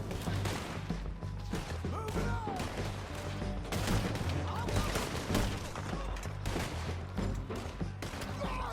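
Rapid, dense video game gunfire fills the whole stretch, loud and close, with overlapping bursts and shots and no clear pauses.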